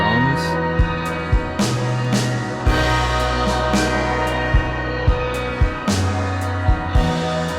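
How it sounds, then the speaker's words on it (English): A drum groove joins a track over a spaced-out floating bass, with regular kick and snare hits in a steady pattern beneath sustained low tones, mixed and full, with no voices. "Then you add some groove with the drums."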